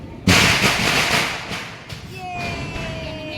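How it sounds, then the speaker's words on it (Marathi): A sharp Diwali firecracker burst opens, followed by crackling and popping that fades, with a thin whistling tone near the end. "भाव फटाके फोडतोय"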